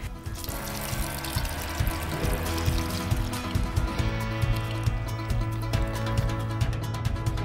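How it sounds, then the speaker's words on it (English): A lot of whole milk poured from close by onto rice in a pan for baked rice pudding, a continuous gushing, splashing liquid stream lasting several seconds beneath a steady layer of background music. "we're ready for the next stage, which is adding a lot of milk,"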